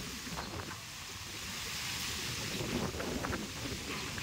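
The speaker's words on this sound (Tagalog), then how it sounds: "Lakas pa ng hangin." Strong wind gusts across an open outdoor spot under gloomy skies, a low, rough rushing and buffeting that swells and fades irregularly, moderately loud and continuous without any talk.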